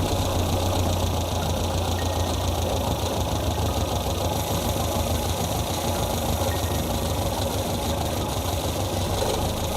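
A car engine idles steadily while its RPM is adjusted down toward about 800 during a dwell-angle and RPM check: a continuous, even mechanical drone with light ticking, fairly close and loud, with no talk.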